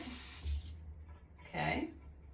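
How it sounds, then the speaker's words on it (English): A short burst of water from a tap runs onto a small cotton round, a brief close splash that stops, with a second gush a moment later. "You're just gonna use a little round, put a little water on it."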